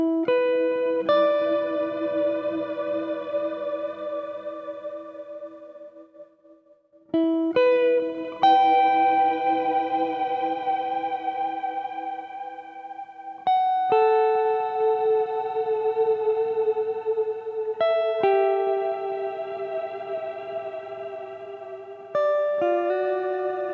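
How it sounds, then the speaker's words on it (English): Sustained guitar notes ring out with a lush, shimmering reverb, shimmering upper harmonics blooming above each chord as new notes are struck every few seconds. "So this is a kind of shimmer reverb"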